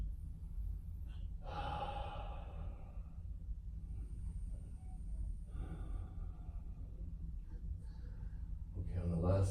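Heavy, audible breaths during a guided yoga session, drawn-out inhales and exhales recurring every few seconds over a steady low hum, fairly close and moderately loud, with no talking.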